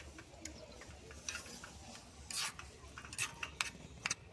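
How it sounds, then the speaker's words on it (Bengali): A utensil stirs spices and melting jaggery in a pan, giving soft scraping and clinking strokes in an irregular rhythm over a faint low background, close but quiet. "এটাকে আবারও নেড়ে নিচ্ছি।"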